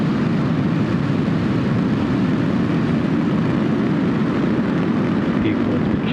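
Roar of a SpaceX Falcon 9 rocket at liftoff from Florida carrying Starlink satellites, a continuous loud rumbling blast holding steady throughout, with a faint crowd or commentary murmur beneath.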